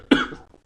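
A single sharp cough close to the microphone, brief and loud, then a fading breathy tail.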